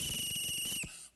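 A shrill whistle blown in one sustained blast at a police commission meeting, fairly faint, with a low murmur of the room beneath it, cutting off abruptly near the end.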